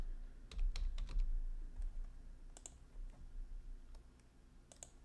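Typing on a computer keyboard while entering a search term in the Microsoft Azure portal, heard as irregular bursts of quick, close keystroke clicks with short pauses between, with no talk over it.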